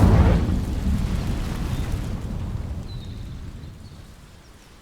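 The Incendio fire spell igniting dry vines in Hogwarts Legacy: a sudden loud whooshing burst of flame that settles into a crackling rumble and fades away over a few seconds.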